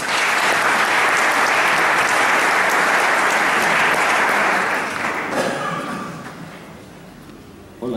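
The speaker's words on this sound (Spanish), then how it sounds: "Por favor, otro aplauso." Audience applause at a church missionary Sunday event, sustained dense clapping that fills the room for about five seconds, then thins and fades toward the end.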